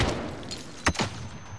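Gunfire in a shooting video game, muffled background shots with one sharper crack and a couple of quick follow-up reports in the middle of the moment.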